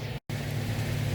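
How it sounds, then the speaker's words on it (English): Air conditioner running in a workshop during a laser engraver test, a steady low broadband hum and whoosh at modest level, briefly cutting out for a moment before resuming. "Sorry about the AC noise."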